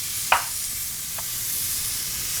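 Butter hitting a hot pan after searing steak gives a steady sizzle, with a sharp clink near the start and a soft tap a second later, and nobody talking.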